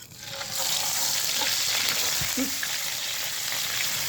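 Onion paste hits hot soybean oil in a frying pan and bursts into a loud, dense sizzle that holds steady and close throughout, with faint stirring knocks underneath.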